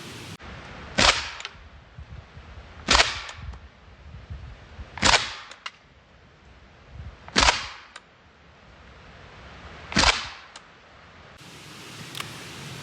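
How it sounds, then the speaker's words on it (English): Five sharp, isolated pistol shots fired close up at ballistic eye protection glasses, spaced about two seconds apart, each a crisp crack over a quiet background. "I'm just going to get in nice and close with the pistol now and see what this does as well."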